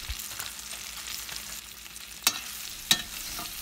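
Raw banana pieces with salt and turmeric are stirred in a pan over a low flame, giving a soft, continuous sizzle with light scraping and a couple of sharper spoon knocks against the pan.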